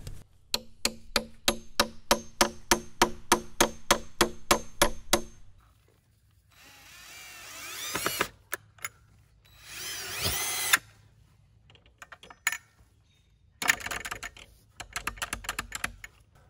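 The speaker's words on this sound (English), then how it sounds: "So I'm going to drill a hole. I'm going to put this in here. I'm going to pound this in here pretty tight" A power drill bores a hole for a metal rod latch on a pasture gate, following a fast run of sharp clicking taps; bursts of whirring drilling come close and moderately loud, separated by quiet gaps.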